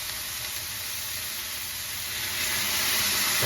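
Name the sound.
spinach steaming in pan with pasta water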